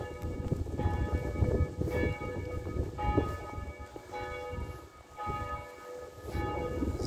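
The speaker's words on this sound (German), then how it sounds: "Glockenspiel." Glockenspiel chimes ring from the town hall in Bernburg, Saxony-Anhalt, a steady run of clear tuned bell notes in a bright sequence over outdoor street ambience, with no talking.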